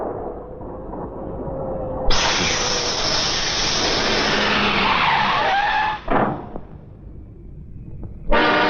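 A car skids hard as a tire punctures, a loud sustained screech with broadband hiss lasting several seconds, cutting out abruptly, followed by a brief second burst.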